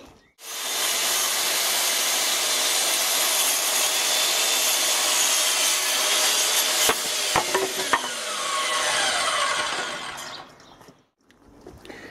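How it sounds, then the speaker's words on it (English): A wooden length for a raised planter is sawn in one long continuous cut, a loud close rasping hiss that holds steady before tapering off and stopping near the end. "now we need to cut 12 at 600 millimeters"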